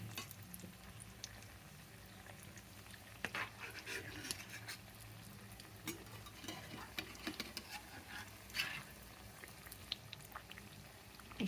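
Maida biscuits fry in oil over a medium flame, a soft steady sizzle with occasional stirring clinks and scrapes in a quiet kitchen.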